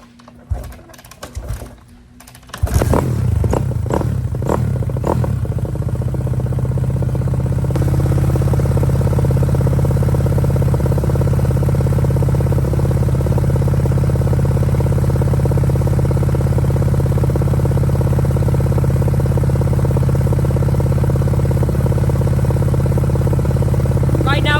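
A Kawasaki 250 dirt bike engine starts up after some brief clatter and then runs at a steady, loud, droning idle for about twenty seconds without revving up.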